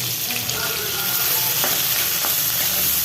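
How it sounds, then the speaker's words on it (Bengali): Ginger and garlic fry loudly in a hot pan, a dense, even hiss of sizzling oil with a few faint stirring taps. "তো আদা রসুন ভালো মতো একটু কষায়"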